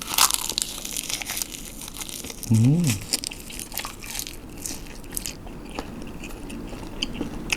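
Close, crisp bites and crunchy chewing while eating salmon dressed with chili and fish sauce, in irregular bursts with a brief hum partway through.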